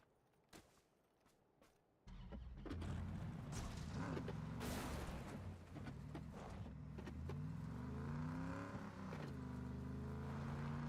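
A car drives in the video game PUBG, with a steady, loud engine drone that starts abruptly after a quiet opening and carries on with slight pitch shifts and no speech.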